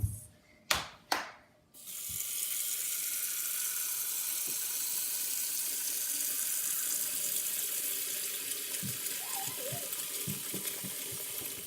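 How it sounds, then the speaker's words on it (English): Tap water pours in a steady, loud rush, filling a pot of potatoes being boiled for lefse. A few sharp knocks of the pot come first, then the water runs on without a break, with faint clinks later. "Fill the pot with water to cover the potatoes."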